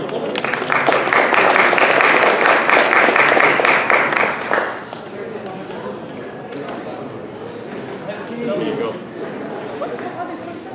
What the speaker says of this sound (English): Have a round of applause, please.